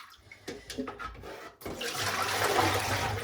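Water rinses homemade paneer: a few soft handling knocks, then a steady close rush of running, splashing water that continues to the end.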